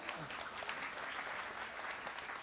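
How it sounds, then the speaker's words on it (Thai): A church congregation claps together during a sermon, a continuous patter of many hands at moderate distance, fairly quiet and even, with faint voices mixed in. "เราปรบมือให้พระเจ้าหน่อยดีไหมครับ"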